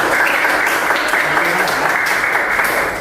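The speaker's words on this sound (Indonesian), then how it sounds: "tepuk tangan" A classroom of students breaks into applause during a lesson, a steady, fairly loud patter of many hands clapping with voices faintly underneath.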